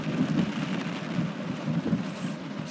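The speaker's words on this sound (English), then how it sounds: "Now this is a severe storm" A severe thunderstorm in Los Angeles brings steady rain hissing over a low, rolling rumble, moderately loud and continuous, with no one speaking.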